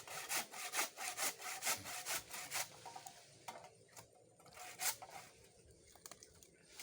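Rhythmic back-and-forth strokes of a hand saw cutting through wood, steady and close, slowing and thinning toward the end.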